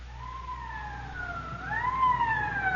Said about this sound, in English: Code 3, that means red light and siren.